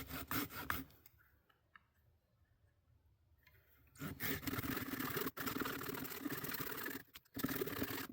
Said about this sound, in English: Maybe if I cut a bit of a saddle on the top of this log too